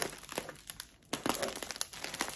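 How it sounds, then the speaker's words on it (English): Close, crisp crinkling of wrapping material being taped around a coffee mug gift, several short rustling bursts with brief pauses, no talking. "And then I'm just going to put my tape on it."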